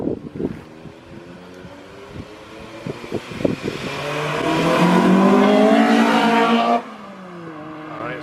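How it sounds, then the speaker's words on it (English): A Honda CRX Si with a Type R engine swap revs hard, its VTEC intake roar swelling into a loud, rising howl that cuts off sharply, with quieter idling and blips before it. "you can definitely hear that intake. That thing roars at it. That thing is loud."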